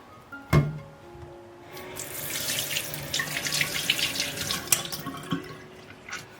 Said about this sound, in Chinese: 这是一块猪颈肉，我们先来清洗干净